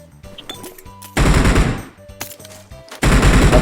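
Enemy gunfire in a battle royale video game: two loud, close bursts of rapid automatic fire, with quieter clicks and game sounds between them.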